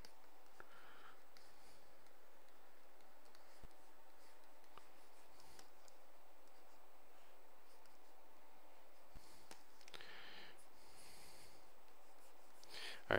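A pencil or pen sketches a figure from behind, giving soft, steady scratching strokes that come in short bursts and stay faint and close, with a few light taps, against a quiet room without voices.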